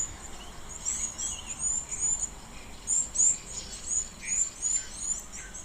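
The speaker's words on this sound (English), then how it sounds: "Here's some little waxbills and firefinches also in the background, chirping away" Small waxbills and firefinches chirp in the background at an African waterhole, a steady scatter of thin, high twittering calls over soft outdoor ambience.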